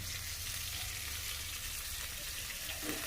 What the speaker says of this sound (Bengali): এই দেখো আমি তেল দিচ্ছি বেশি করে তেল দিব